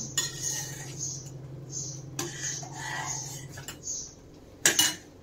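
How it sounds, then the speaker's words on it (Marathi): A spoon stirs tamarind chutney in a bowl, giving light clinking and scraping scrapes over a low steady hum, with a sharper clatter near the end. "चटणी पहिल्यांदा आपण एकदा हलवून घेऊया।"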